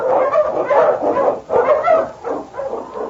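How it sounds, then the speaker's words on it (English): An Eskimo lead sled dog in an old Yukon radio drama barks and yelps in rapid, loud repeated volleys, close and continuous for several seconds with no voices over it. "The wonder dog King, swiftest and strongest of Eskimo lead dogs, blazes the trail through storm and snow"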